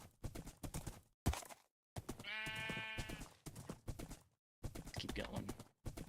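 Sheep bleating in a video game, one wavering drawn-out bleat in the middle, set between short bursts of footstep-like clopping and someone talking.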